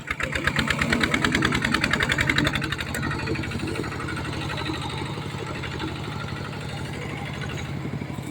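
A small walk-behind tractor engine runs close by while clearing overgrown brush behind a house, a fast, clattering single-cylinder chug that is loudest at first and then settles into a steady drone.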